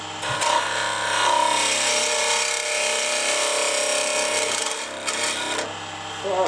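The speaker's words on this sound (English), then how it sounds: "Far too much pressure on the gouge. I'm pushing too hard." Wood being carved by hand with a gouge on a small angel and bell ornament, a steady scraping rasp that continues for several seconds with brief pauses near the end.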